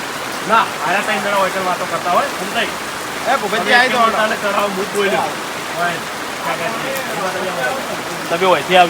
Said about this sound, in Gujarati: થોડી વરસાદ પાછો ફેર વધી ગયો